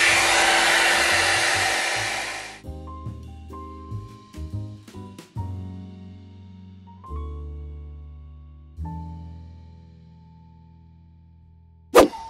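Blow dryer brush hot air styler set to low speed and hot heat, a loud steady whooshing roar for about two and a half seconds that cuts off, followed by quieter tones and a brief click near the end.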